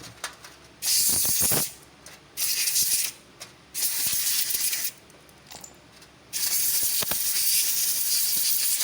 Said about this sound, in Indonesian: Kita semprot menggunakan udara bertekanan.